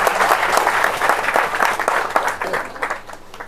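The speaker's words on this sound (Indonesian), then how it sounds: "tepuk tangan dong untuk rekan-rekan sekalian." A crowd at a gathering claps together in a thick burst of applause that gradually thins toward the end, over a low steady hum in the room.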